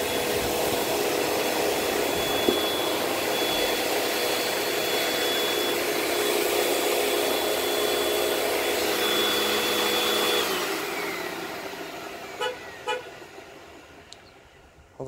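A vacuum cleaner's brush roll runs loud and steady after a clog, with a droning whine that cuts off abruptly partway through, followed by a few short knocks and clicks as the machine winds down.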